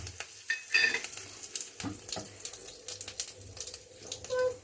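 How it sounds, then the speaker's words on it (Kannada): Cumin seeds and curry leaves dropped into hot oil for mango pickle tempering, giving a crackling, sputtering sizzle with scattered pops and stirring clinks, close and moderately loud. "ಈಗ ಒಂದು ಚೂರಿ ಜೀರಿಗೆ ಹಾಕ್ತಾಯಿದ್ದೀನಿ ಕರಿಬೇವು ಹಾಕ್ತಾಯಿದ್ದೀನಿ"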